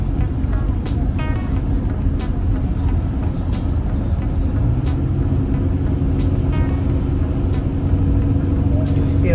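A car engine strains as the vehicle climbs a hill on a family road trip, a steady low drone with rising pitch over road noise, with faint ticking sounds above.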